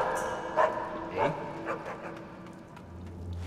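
In Assassin's Creed Chronicles: China, a guard dog spots the player and barks three or four times, short, spaced barks that fade slightly, over quiet game ambience.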